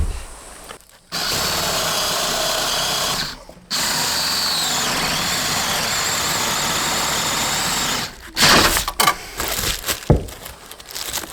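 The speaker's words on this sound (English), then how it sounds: "Let's get some holes drilled." Power drill boring holes through wooden joists of a salvaged mobile home for wiring: two long sustained bursts of drilling, then a stretch of short stop-start pulses and knocks, close and loud.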